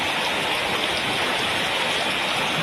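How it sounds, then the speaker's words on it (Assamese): Heavy morning rain pours steadily in a dense, unbroken hiss, close and loud, with water pooling at a doorway and no voices over it. "ৰাতিপুৱাই ইমান ডাঙৰ বৰষুণ দিছে"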